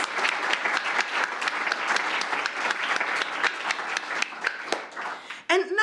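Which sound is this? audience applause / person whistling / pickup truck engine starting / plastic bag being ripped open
audience applause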